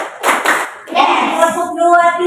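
Classroom students clap their hands in a rhythmic pattern, a few sharp group claps near at hand, followed by voices chanting along in unison.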